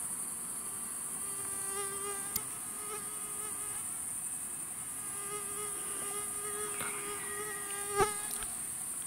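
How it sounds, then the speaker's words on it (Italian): Swarm of mosquitoes whining steadily and close in an outdoor setting at night, a continuous high-pitched buzz with a few sharp clicks and taps over it. "ma ci sono troppe zanzare"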